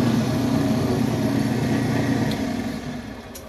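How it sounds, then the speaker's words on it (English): A small Lortone 6-inch lapidary trim saw runs with a steady, close motor drone and whir that eases off slightly toward the end. "so there it goes, little 6-inch trim saw"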